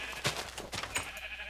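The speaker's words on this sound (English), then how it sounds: "Oh, look at all the sheep." Sheep bleating in Minecraft as a crowded flock mills around, several short nasal bleats in quick succession, fairly close and clear with no talking over them.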